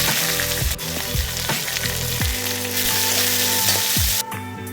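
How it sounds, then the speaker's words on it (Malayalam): Cumin seeds frying in hot oil for a rajma curry, a steady loud close sizzle and crackle with occasional stirring scrapes, no voices. "അത് ജീരകം ഇടുന്നുണ്ട്"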